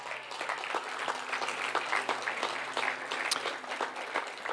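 Audience applause at a school district graduation ceremony, a steady spread of clapping from many hands across a large room, moderately distant, with a low hum beneath and no talking.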